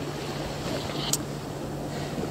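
Wind and gentle waves on a seashore near a freshwater spring, a soft steady rush of air and water with a brief gust, quiet and continuous with no speech.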